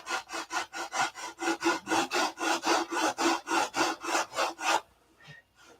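Sandpaper rubbed back and forth over a wooden model airplane wing, a steady run of about sixteen even, close strokes that stop near the end, leaving a couple of faint scrapes.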